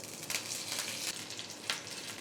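Mustard seeds and curry leaves sizzle and crackle in hot coconut oil, a steady close frying hiss with a few sharper pops, no talk.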